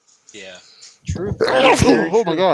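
A single abrupt sneeze bursts out close to the mic in the middle, with people talking just before and after it.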